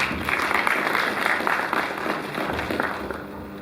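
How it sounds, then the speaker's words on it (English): An audience at a college congregation ceremony applauds a college president, a sustained crowd clapping at an even level that eases slightly toward the end. "Please, a round of applause."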